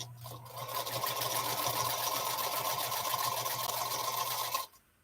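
A home sewing machine runs steadily at close range in a quilting session, a continuous mechanical whir with fast stitching chatter that holds for about four and a half seconds, then stops abruptly.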